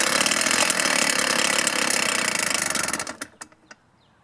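A two-stroke string trimmer engine with a freshly adjusted carburetor runs at a steady buzzing roar, then dies out near the end with a few sputtering, popping coughs before going quiet.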